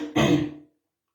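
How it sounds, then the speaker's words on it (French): A single short cough, close and fairly loud, followed by silence. "Je m'excuse si je tousse, mais"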